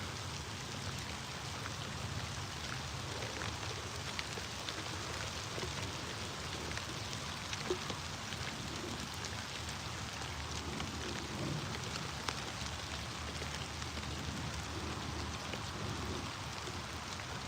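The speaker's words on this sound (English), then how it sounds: "those are some big raindrops" Heavy rain with big raindrops pattering steadily on the water and a boat during a fishing outing in Ontario, a dense, even hiss with scattered louder drop hits and no talk throughout.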